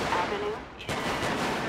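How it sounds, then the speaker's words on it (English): Gunfire in GTA 5 with the LSPDFR police mod during a gang unit patrol: a single sharp shot cracks out near the middle, with more muffled firing and game ambience around it. "I hear the shots."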